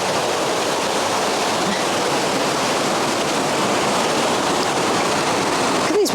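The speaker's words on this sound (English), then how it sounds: "Look at these waterfalls." Waterfalls rush over moss-covered boulders in a muddy woodland, a loud, unbroken roar of falling water filling the whole stretch, with no voices.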